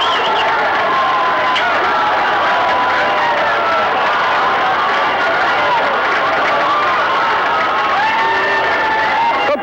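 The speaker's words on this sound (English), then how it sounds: "and listen to this crowd" A loud, dense crowd roars and cheers without a break at a 1994 Plymouth State College football game after a late comeback win over Kings Point, with shouts and clapping blended into a steady wall of noise.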